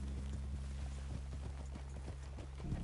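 Horse hooves clip-clop at a steady walking rhythm, close and clear over a low rumbling bed in the Red Dead video game, with no talk.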